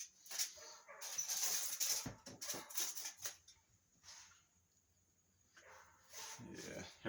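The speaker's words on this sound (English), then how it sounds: "every time I hear a big dog, I think to look for mine" A big dog barks outside in short bursts at a distance, with whimpering yelps between, fairly faint, while a person talks nearby.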